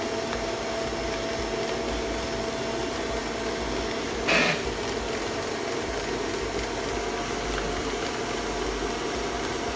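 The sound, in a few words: electric mixer creaming butter and icing sugar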